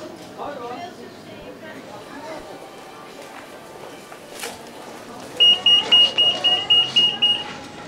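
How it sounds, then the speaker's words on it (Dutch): A home alarm sounds in a series of loud, rapid repeating beeps that start partway through, following a stretch of background bustle and footsteps, with people talking nearby. "het alarm is bij u afgegaan."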